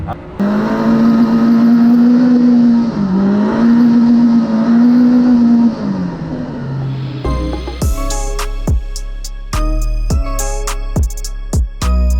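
Can-Am UTV running a lap on the sand dunes at Little Sahara, Utah, a loud sustained engine drone with shifting revs for several seconds, then a rougher, choppier section with sharp bangs and rattles.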